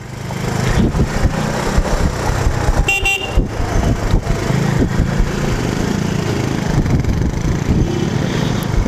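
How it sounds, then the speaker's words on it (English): Busy Bangalore road traffic heard from a motorcycle, with a dense wash of engines and tyre noise and a short, sharp car horn toot cutting through partway. "look at the traffic lineup here"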